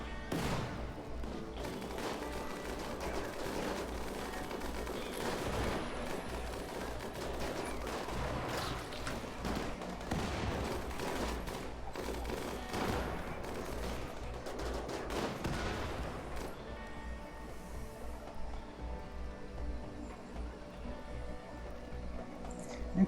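Incendiary lance fire and other weapons crackle and boom in RimWorld combat, a dense, loud, continuous barrage of rapid shots and blasts that thins out near the end.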